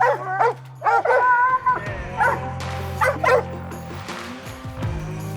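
Competition hunting dogs, a Walker hound and a Mountain Cur, bay and bark repeatedly at a treed raccoon, with drawn-out howls and yips overlapping close by in bursts.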